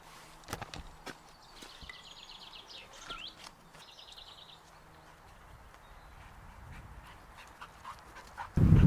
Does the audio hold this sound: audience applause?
no